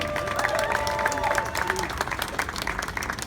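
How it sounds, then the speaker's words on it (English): A crowd at a casino hotel event applauds steadily in a dense, continuous wash of clapping, with some cheering mixed in and a voice faintly underneath. "Please have a round of applause for Kirk Kerkorian."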